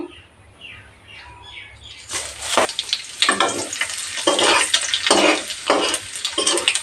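Whole spices dropped into hot oil on low heat for a Bengali puja-style labra vegetable dish, bursting into a loud, steady sizzle with crackles after a quiet start, continuing close and strong to the end.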